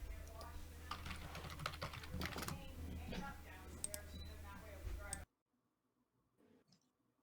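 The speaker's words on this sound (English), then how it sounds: "Damn, that was some fast typing." Fast typing on a computer keyboard comes through a voice call as a rapid, dense run of clicks for about five seconds, then stops abruptly into near silence; voices are faintly present.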